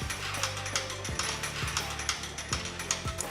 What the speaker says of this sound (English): Use the remote control to roll out the beer hose from the CDU.